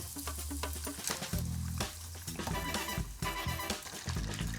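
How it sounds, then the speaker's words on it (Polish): Busy kitchen sizzling and crackling as batter-coated chicken fries in hot oil, with clinks and stirring sounds throughout. "Zanurzam je w cieście, czekam aż trochę odcieknie i smażę je w rozgrzanym oleju."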